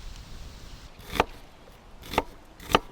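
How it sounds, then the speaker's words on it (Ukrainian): A knife strikes a cutting board three times with sharp, separate knocks as onion is finely chopped outdoors beside a portable grill, with a quiet background between the cuts. "Дрібно нарізаємо цибулю."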